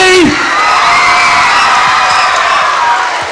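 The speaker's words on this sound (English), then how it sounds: "huge round of applause" A loud, sustained crowd at a school back-to-school pep rally cheers, whoops and shouts over applause, with children's voices yelling throughout and a brief voice at the very start.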